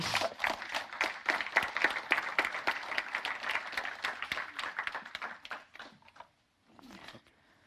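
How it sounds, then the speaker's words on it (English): Seminar audience on civil society partnerships clapping, a room-filling round of applause with distinct hand claps that thins out and fades toward the end, followed by a brief pause. "let them give me applause."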